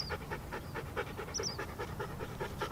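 A dog pants steadily during leash training, a quick rhythmic run of breathy huffs that stays close and fairly quiet throughout, with no talk over it.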